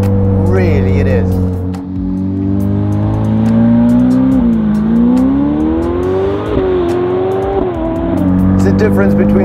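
A Novitec Ferrari F8 N Largo supercar pulls hard, its engine note climbing and dipping through gears as a loud continuous roar, with someone talking over it inside the cabin.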